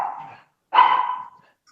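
Two sharp barks from a dog indoors, close and loud, separated by a brief silence, with no voices.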